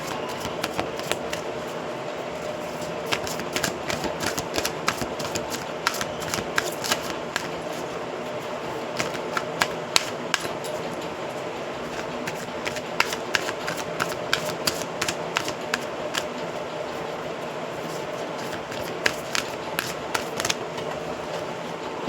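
Tarot cards being shuffled and drawn in a continuous rapid riffle of crisp, close paper flicks and snaps, dense and steady throughout with no talking.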